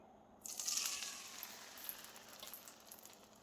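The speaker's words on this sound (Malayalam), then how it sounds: "ഈ ചൂടായ വെളിച്ചെണ്ണയിലേക്ക് ഈ അരപ്പ് ഒഴിച്ച് കൊടുക്കാം." Ground spice paste poured into hot coconut oil for a drumstick leaf curry, bursting into a sudden loud sizzle that settles into a steady crackling hiss, close and alone.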